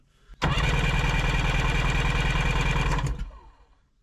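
A Sea-Doo Sportster 1800 watercraft engine is cranked over with the throttles held wide open and the plugs grounded for a compression check; the starter churns steadily and loudly for about three seconds, then stops and winds down.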